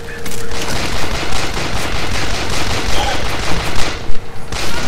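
Rapid automatic gunfire in the Bioshock Infinite shooter, dense continuous bursts of shots filling the whole stretch, loud and close, with a few heavier bangs near the end.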